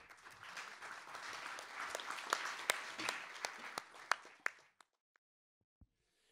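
Audience applause at a policy symposium on candlelight spirit and government reform, a dense round of clapping that thins into scattered last claps and fades to quiet near the end.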